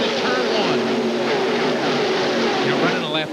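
NASCAR race cars run two abreast past the camera at Talladega in a 1999 Busch Series race, a loud continuous engine roar with pitch sweeps as cars go by, with a commentator talking over it.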